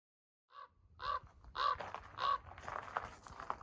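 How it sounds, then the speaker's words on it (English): A raven calling outdoors at a mining park, four harsh croaking caws spaced about half a second apart, fairly close, with light wind and background noise afterward. "Hear that raven?"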